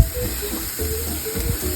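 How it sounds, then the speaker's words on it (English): Meat searing on each side in a hot pan gives a steady broadband hiss and sizzle, loud and close, with low clattering underneath and no talk. "We're gonna sear them on each side."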